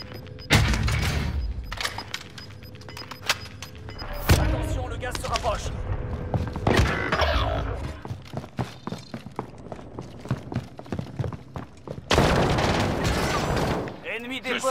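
Gunfire in the Call of Duty Modern Warfare video game on Rebirth Island, with rapid bursts of shots and sharp blasts scattered across the clip, mixed with footsteps and running and a voice speaking between the shots.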